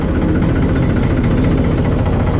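A tractor engine idles steadily just after starting, a loud, close, continuous low rumble with a fine vibrating knock and no voices over it.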